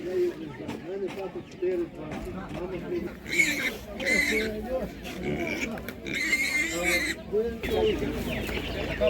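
Pigs grunt and squeal at a livestock market in Tlumach, Ivano-Frankivsk region, repeated close grunts mixed with chicken clucks and bursts of higher squealing, while people talk nearby.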